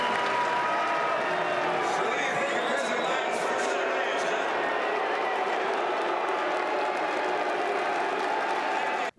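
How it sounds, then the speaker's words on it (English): Utah Republican delegates at a convention boo Senator Mitt Romney, a dense, sustained crowd roar filling a large hall for about nine seconds, with voices mixed in, then cutting off abruptly. "Senator Mitt Romney was loudly booed by delegates."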